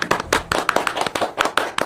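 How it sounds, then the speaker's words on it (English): A small group gives a brief round of applause, with quick, sharp, close-up hand claps in a dense burst that lasts under two seconds. "Should we give a brief round of applause?"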